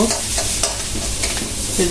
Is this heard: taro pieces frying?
yes